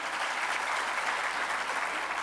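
Audience applause at a Gujarati talk on sin and virtue, a steady dense wash of many hands clapping at once, loud and continuous with no speech over it.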